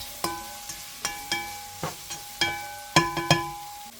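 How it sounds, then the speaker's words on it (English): A utensil stirs Creole seasoning, garlic powder and parsley in a frying pan, giving a string of sharp metallic clinks and scrapes at an uneven rhythm over a quiet sizzle, close and clear, with no voices. "Let me go ahead and stir this around just a little bit"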